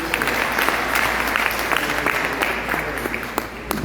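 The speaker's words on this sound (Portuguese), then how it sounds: "salva de palmas aí para o servo de Deus" Church congregation applauding a preacher during an evening service, a loud, close, steady round of clapping with scattered sharper claps and murmuring voices underneath.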